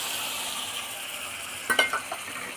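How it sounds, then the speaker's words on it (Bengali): Sesame paste curry simmering in a pan, a soft steady bubbling hiss followed by a brief cluster of spatula clinks and scrapes near the end. "এবার ফুটে উঠেছে"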